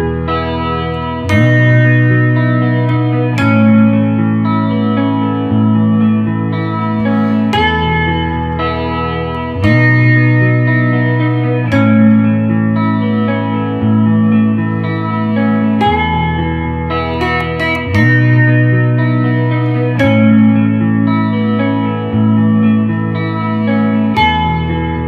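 An electric guitar with heavy reverb and effects plays sustained chord tones, each new note struck every couple of seconds, rich and loud.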